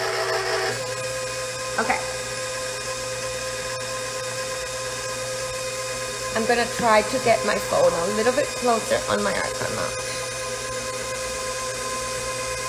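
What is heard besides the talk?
electric mixer stirring lemon royal icing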